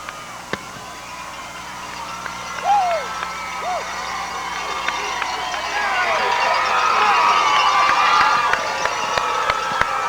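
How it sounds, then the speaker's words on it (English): A high school football crowd at Beallsville versus Woodsfield in 1991 cheers and shouts wildly after a touchdown, the roar building louder toward the end with scattered whistles and yells. "And listen to the crowd."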